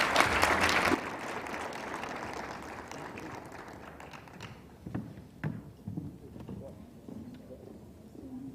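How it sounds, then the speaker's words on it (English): An audience claps for conference panelists. A burst of applause is loud at first and fades within about a second, followed by room noise with scattered thumps and shuffling. "let's applaud one more for our panelists"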